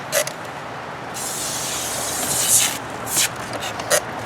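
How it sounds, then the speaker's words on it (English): A cone sprayer hisses in short and longer bursts while spraying up under the siding of a house, steady and close, with faint mechanical clicks between bursts. "if you're spraying like this, that spray is going straight against the side of the building like that"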